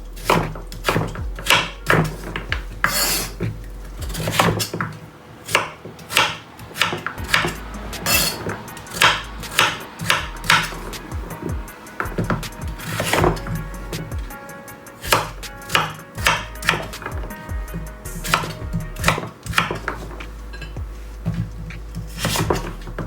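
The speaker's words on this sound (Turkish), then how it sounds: "şöyle küp küp şekilde doğruyorum" Steady knife chopping of zucchini into cubes on a cutting board, quick repeated thuds in bursts with short pauses, close and loud, no voices.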